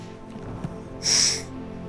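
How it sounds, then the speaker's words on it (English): A person blows their nose once in a short, hissy, close burst that rises and fades over about half a second against a low background hum. "had to blow my nose"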